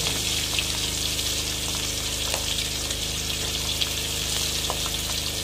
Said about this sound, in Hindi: ये इसमें हल्का हल्का फ्राई होगी तो इसका पानी बिल्कुल खुश्क हो जाएगा।